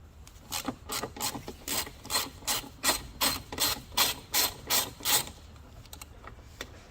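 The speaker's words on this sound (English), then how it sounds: "Now we can remove the bolts that hold the lock in." A ratchet loosens M8 spline bolts holding the door lock on a Seat Leon Mk3, its clicking in a steady run of about fifteen close, even pawl strokes.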